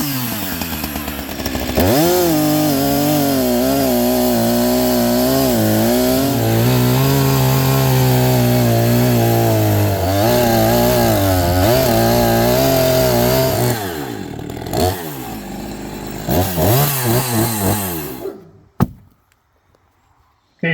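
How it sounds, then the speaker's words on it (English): A chainsaw cuts through the butt end of a log beside a Woodland Mills HM126 sawmill. The engine roars loud and steady, rises and dips in pitch under load, then cuts off abruptly near the end. "So I'll have to take a chainsaw and just whack off this butt a little bit."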